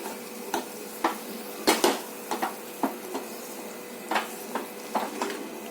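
A spoon stirs and scrapes chickpea curry around a metal pan, giving irregular knocks and clatters at close range.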